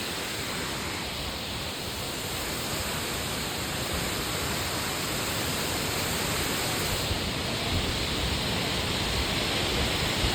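A waterfall in the snowy Georgian mountains gives a steady, loud, broadband rush of falling water that never changes over the whole stretch, with no voices.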